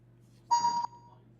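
A single short electronic beep sounds clearly over a quiet low hum, then fades with a faint tail.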